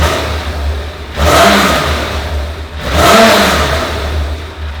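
A Yamaha YZF1000R Thunderace four-carburettor engine, freshly balanced, revs up twice in quick succession, loud and close, each time rising from idle and dropping back.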